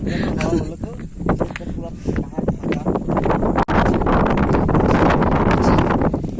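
Strong wind roars and buffets the microphone continuously at Panbu Dara viewpoint, with people talking underneath the gusty rumble.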